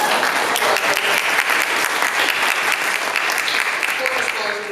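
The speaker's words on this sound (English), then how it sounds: "Can everybody give a round of applause for Christina?" A panel audience in New York applauds for a speaker: full, continuous clapping from the room with a few voices mixed in, sustained evenly throughout.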